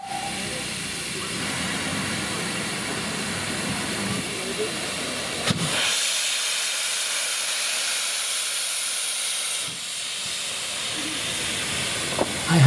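Steady, loud steam hiss from a Great Western Railway Castle Class locomotive, broad and continuous, with a couple of sharp bursts partway through.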